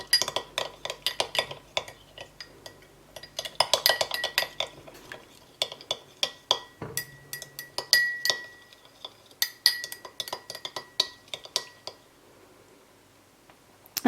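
Spoon clinking against a cup or glass while instant coffee is stirred into a little hot water, repeated irregular metallic taps in bursts, close and fairly quiet.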